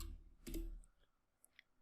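A few quick, faint computer mouse clicks in a quiet room, with one louder click cluster near the start and two small isolated clicks later, while working in an Excel spreadsheet.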